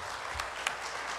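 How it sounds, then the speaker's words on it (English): A church congregation at a Father's Day service claps in a brief burst of applause, a dense, even patter of many hands nearby with no voices over it. "Let's give him a round of applause."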